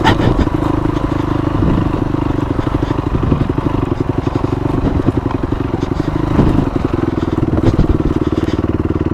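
A Honda CRF 250 dirt bike riding trails at St Joe State Park: a loud, close single-cylinder engine drones and pulses steadily, with rattling and clatter from the rough ground throughout.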